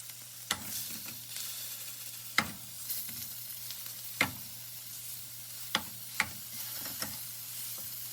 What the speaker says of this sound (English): We're going to just brown up some Jimmy Dean sausage.